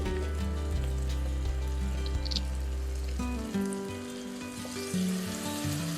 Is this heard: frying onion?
yes